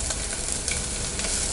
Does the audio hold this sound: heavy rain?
no